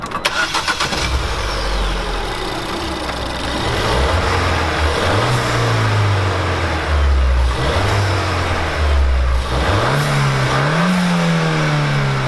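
Car engine fitted with an induction kit, starting and then revving repeatedly, each rise climbing and falling back to idle, loud, close and throaty throughout.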